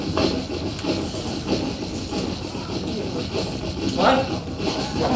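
Steady rumbling and hissing of a moving train fills the clip, with people talking underneath.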